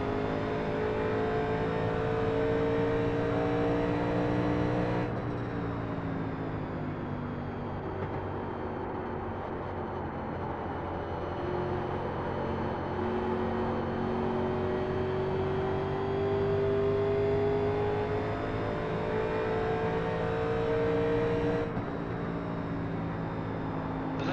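A 1987 NASCAR race car engine at Darlington in the iRacing simulator drones continuously at high revs, its pitch climbing steadily between two abrupt gear-shift drops, loud and close throughout.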